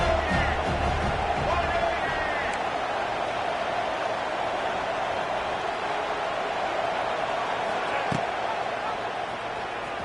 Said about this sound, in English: And here comes the noise. This crowd is trying to inspire his defense to make a big red zone stop.